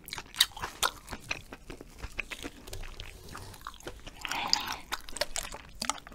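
Eel skin jelly being chewed close up, with soft irregular biting and squelchy crunching sounds, quiet, and no one talking.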